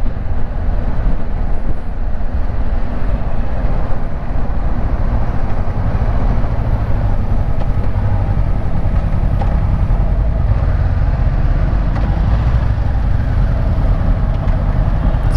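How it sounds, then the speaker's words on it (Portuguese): A Honda CB500X motorcycle riding through urban traffic in Jaboatão dos Guararapes, heard as a steady, dense engine and road roar with wind buffeting the microphone, continuous and fairly loud throughout, with no talking. "A moto é muito leve, muito dócil no trânsito."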